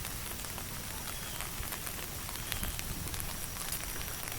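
Steady morning rain patters densely on surfaces all around at Stonelick Lake State Park, a constant even hiss with scattered drips, no voices.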